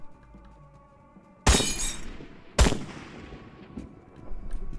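Two sharp, loud gunshots in a video game about a second apart, each with a crackling, glassy ringing tail that decays, followed by quieter rustling movement.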